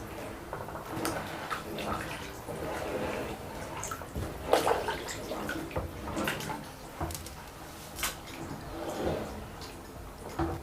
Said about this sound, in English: So I'm adding more water.